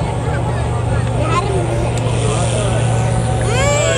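A fairly standard, lightly tuned tractor's engine drones steadily at a tractor pulling event at Forsby Dragway, loud and continuous throughout, with crowd babble and chatter mixed in.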